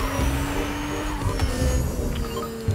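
A car in the Fortnite video game drifts, its engine droning steadily at moderate volume with a gritty, skidding texture underneath.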